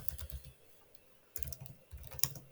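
Typing on a computer keyboard in short bursts of close, light key clicks, with a pause in the middle before the tapping resumes.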